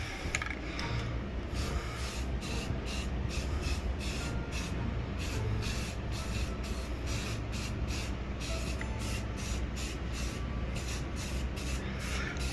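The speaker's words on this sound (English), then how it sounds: "I'm gonna spray paint that real quick" Steady hissing from a spray paint can runs continuously throughout, close and fairly loud, spraying white hardboard signs, with faint mechanical clicks layered over it and no talking.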